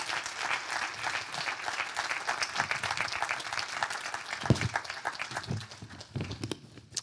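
An audience at a microbiome pitch event applauds as a presenter from the company MycoBiotix comes on stage, steady close clapping that swells and then thins out toward the end, with a few louder individual claps.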